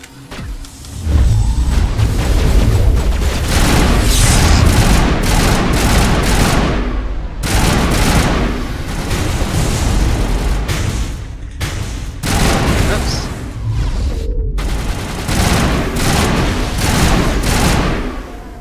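Weapons fire in the Mass Effect 1 video game, dense bursts of loud gunshots and booming impacts over nearly twenty seconds, with brief pauses between volleys and a voice talking at one point.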